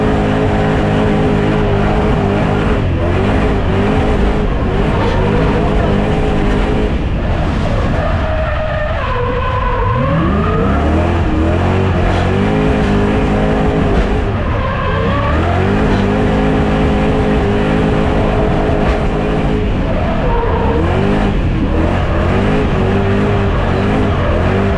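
A drift car engine revs hard and loud throughout, with rising and falling pitch sweeps as it accelerates and slides, and tyre skidding mixed in on a drift weekend.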